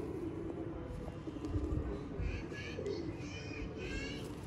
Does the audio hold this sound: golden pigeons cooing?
yes